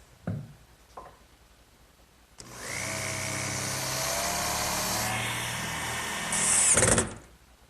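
A power drill whirs steadily for several seconds after a couple of brief knocks, its pitch climbing slightly before it stops.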